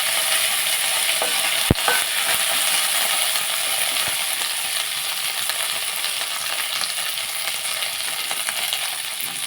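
Garlic and curry leaves frying in hot oil for a Kakinada-style tiffin, giving a steady, close hiss and crackle throughout, with one sharp metallic clink near the start and no talking.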